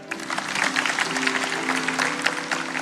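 A church congregation claps together in steady, dense applause that carries on throughout, with some voices mixed into the crowd noise.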